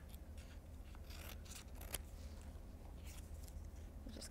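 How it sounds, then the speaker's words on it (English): Scissors snip out paper legs for a movable paper animal craft, a soft close run of quick rustling cuts that stays faint and steady without speech. "I'm gonna cut those out quick."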